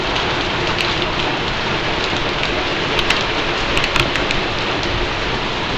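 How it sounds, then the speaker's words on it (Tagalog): Heavy rain pouring down and splashing hard onto surfaces close by, a steady, loud hiss with occasional sharper drops standing out, no voices. "ulan yan, malakas yung talsik."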